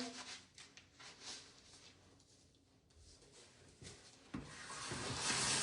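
Skin being scrubbed by hand with a sugar scrub, a close, steady rubbing and grainy scraping that swells and fades in uneven strokes and grows louder toward the end, with no talking.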